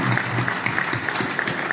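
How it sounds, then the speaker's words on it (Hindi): Audience clapping at a Hindi patriotic poetry recital, a steady dense patter of many hands sustained throughout with faint voices mixed in. "शंभू ताली बजाओ"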